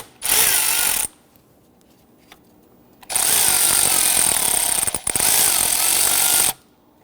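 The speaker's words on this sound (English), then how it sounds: "We're going to use a 10mm socket for our particular clamp." A power tool with a 10mm socket loosening a hose clamp on the throttle body of a 2011-2015 Kia Sorento 2.4L four-cylinder: two loud, close bursts of rapid buzzing impact rattle, one short and one longer, separated by a pause.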